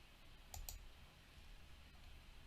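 Two quick, crisp computer mouse clicks close together, heard alone over a steady background hiss while working in LoadRunner on a computer.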